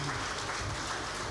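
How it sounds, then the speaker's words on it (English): A moderator and panelists at Agric Summit Africa 2025 receive a round of applause, a brief, dense wash of clapping heard faintly at a distance. "Can we give our moderator and our panelists a round of applause?"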